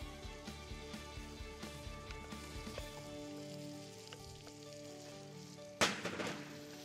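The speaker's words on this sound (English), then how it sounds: "After the mushroom, we will add diced capsicum." Diced capsicum and mushroom sizzle in a hot pan during a food production practical, a steady crackling fry with a few soft knocks early on and a sudden louder burst of sizzle near the end.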